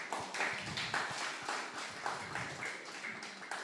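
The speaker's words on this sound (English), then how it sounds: "Let's give a round of applause." Scattered clapping from a church group, brief uneven bursts of applause at moderate distance, fairly quiet and continuing without a clear peak.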